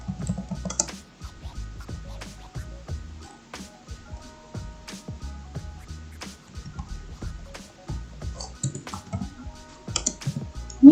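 Keys clatter on a computer keyboard while an SQL query is entered, irregular close taps and short bursts continuing for about eleven seconds with brief pauses between.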